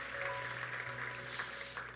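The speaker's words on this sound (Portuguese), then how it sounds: "Vamos aplaudir o Senhor" A church congregation applauds in praise during a worship service at an annual fast celebration, a steady wash of clapping held at an even level for the whole stretch, with a faint tonal hum underneath.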